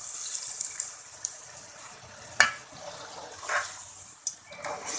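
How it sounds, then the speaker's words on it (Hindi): Leftover water is poured into a pan of fried chickpeas for chicken chole, giving a faint hissing sizzle with soft splashes and a few sharp spits, with no talking. "अब हम इसमें पानी डाल देंगे,"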